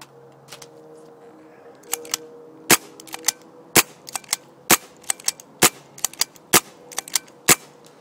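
Gunshots ring out in a sequence of sharp, loud cracks at irregular intervals, about a dozen in all, the later ones coming faster, over a quiet background hum.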